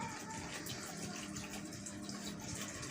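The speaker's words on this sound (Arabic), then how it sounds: "هنزود عليه بقى الميه" Water pours steadily into a dish of dates being prepared as a Ramadan drink, a soft continuous splashing gush heard close and quiet throughout.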